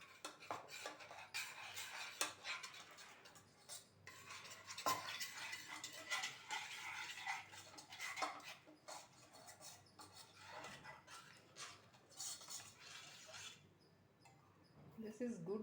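Spoon stirring ragi porridge mixed with water in a pot, a soft continuous scraping and clinking close by, with a person talking throughout.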